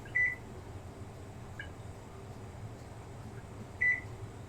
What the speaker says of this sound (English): We gotta set a timer though